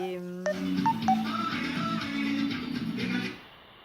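A phone being dialed before a call, a quick run of distinct keypad tones followed by a steady ringing or line tone, clear and close, with faint voices underneath.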